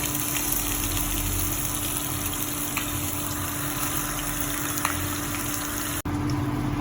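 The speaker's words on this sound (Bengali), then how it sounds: "এখন এই ভোলা মাছটা ভাজছি।" Bhola fish frying in oil, a steady close hiss with soft crackles that runs unbroken, with no talking.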